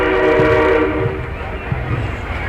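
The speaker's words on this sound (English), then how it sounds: "Here's the train going by." Passenger train bound from Montreal to New York City rolls past a parade in Plattsburgh, its horn blaring loud and close before giving way to a steady rumble of wheels and cars.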